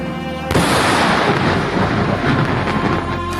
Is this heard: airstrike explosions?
yes